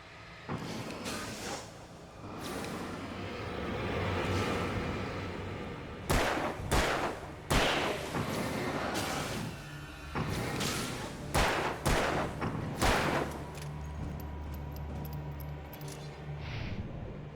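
Pistol gunfire in the video game Alan Wake: a series of sharp, loud shots at irregular intervals, some in quick pairs, over a steady rumbling game ambience.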